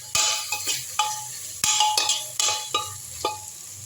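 Tomatoes sautéing in a pan with ginger and garlic for a chicken dish: a spoon strikes and scrapes the pan in a series of sharp, ringing clinks, roughly every half second, over a faint sizzle.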